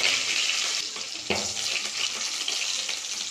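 Curry leaves dropped into hot oil with slit green chillies for a village-style fish curry. A loud, continuous, hissing sizzle fills the whole stretch, with a sharp crackling burst near the middle.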